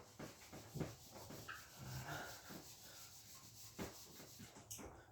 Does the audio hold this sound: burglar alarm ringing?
no